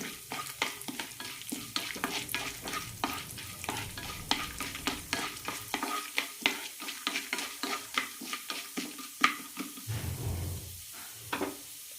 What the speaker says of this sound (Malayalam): ഒരു ടീസ്പൂൺ നിലക്കടലയും ഇടാം പരിപ്പുകൾ കളർ മാറുന്നത് വരെ ഒന്ന് വഴറ്റിയെടുക്കാം